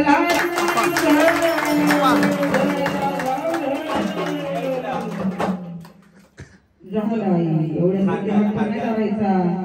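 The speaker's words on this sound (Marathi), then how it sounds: "उचलले वाजवा टाळ्या." A crowd claps in rhythm during a devotional aarti at a temple gathering, the claps running under loud chanted singing and voices, with a brief lull before the clapping and singing resume.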